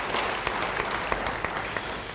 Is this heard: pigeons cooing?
no